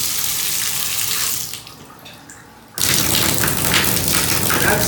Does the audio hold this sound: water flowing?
yes